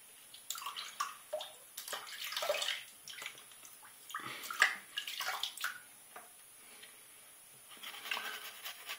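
Water splashing and running from a tap while someone rinses after a shave with a boar brush and shaving cream, heard as faint, close, irregular splashes and trickles.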